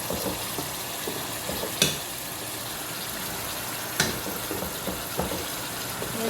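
Ethiopian white meat stew (nech wot) simmers in a pot with a steady, close sizzling hiss and bubbling, broken by occasional sharp clinks of a utensil against the pot.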